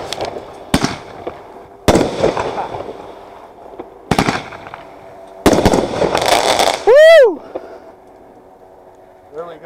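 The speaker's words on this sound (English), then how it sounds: "Ending it with fireworks." Birthday fireworks display, a handful of loud booming bursts spaced a second or two apart with crackling tails and a whistling rocket near the end, close by, with people's voices heard among the blasts.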